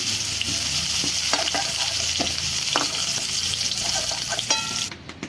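Steady sizzling of jackfruit and potato frying in hot oil, with occasional stirring scrapes and clinks of a utensil against the pan, no voices.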